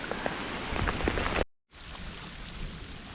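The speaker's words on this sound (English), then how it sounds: "A massive hailstorm, and the trail is suddenly turned into a kind of slurry of hailstones and mud." Hailstones pelt the ground densely during a massive hailstorm on a muddy trail, a loud, steady rattling patter that cuts out for a moment and then resumes slightly softer.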